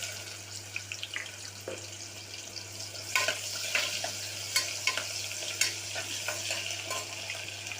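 Onions hitting hot oil with cinnamon, cloves and cardamom in a cooker, a steady close sizzle with stirring scrapes and a few sharper clatters, no voices.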